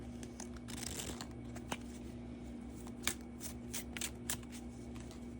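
Tarot cards shuffled and a card drawn, soft papery flicks and slides forming scattered bursts, close up and quiet over a steady low background hum.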